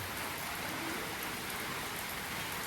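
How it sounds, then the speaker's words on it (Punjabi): Steady rain pours down over farm fields during the monsoon, a dense even hiss of drops on surfaces that stays constant and fairly close throughout with no voices. "ਮੀਂਹ ਦੇਖੋ ਮੀਂਹ ਆ ਗਿਆ ਜੀ ਫੇਰ"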